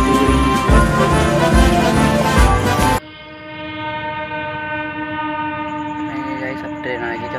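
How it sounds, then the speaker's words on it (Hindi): A train rumbles past farm fields, a loud, dense roar for the first few seconds that drops abruptly into a steadier, quieter running sound with sustained horn-like tones. "उसके बाद देखा कि ट्रेन आ गई"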